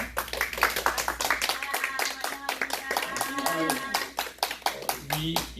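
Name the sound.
welcoming applause from church congregation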